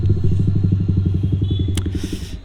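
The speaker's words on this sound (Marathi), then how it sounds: "एक्झॉस्ट टाकला आहे बाईक ब्लॅकमध्ये, एकदम हार्ड फुल सिस्टम आहे" Black motorcycle fitted with a loud aftermarket full-system exhaust, idling with a deep, lumpy, rapid-pulsing burble close by, and a brief sharp click partway through.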